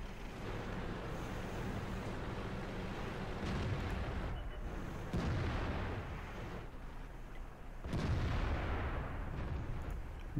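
Tank cannon fire in World of Tanks, heavy booming shots landing at intervals of a few seconds over a steady rumbling battle background, with no talk.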